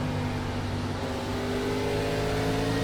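A simulated Gen 4 Cup stock car at Richmond Raceway in iRacing drones steadily and loudly at a near-constant pitch with rich harmonic layers, alone with no talking.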